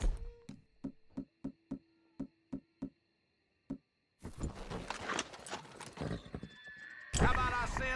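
Horse hooves clip-clop in a sharp, evenly spaced run of about nine hard knocks in Red Dead Redemption 2, then a burst of commotion with a whinny and voices talking over the noise.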